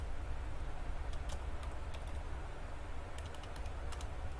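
Computer keyboard typing while coding in Android Studio: faint, scattered key clicks in short clusters over a steady low background hum, with no voice.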